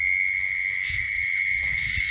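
Insects chirp in a rice field on a cool, misty night. A dense, steady, high-pitched trill runs without a break, with faint low croaks of small frogs beneath it.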